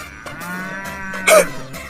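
A cow moos once, a close, loud drawn-out lowing call with a rough, breathy burst near the end.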